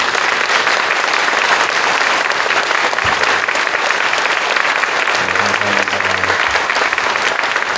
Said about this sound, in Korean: 여러분 큰 박수로 응해 주시기 바랍니다